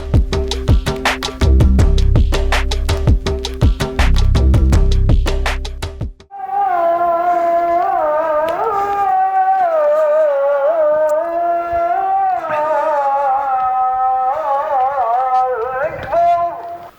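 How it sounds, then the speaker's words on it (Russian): After a burst of rhythmic percussive music, a muezzin's single amplified voice chants a long, wavering call to prayer with sliding pitch, echoing from minaret loudspeakers in the mountains of Turkey. "Это муадзин призывает всех мусульман на молитву,"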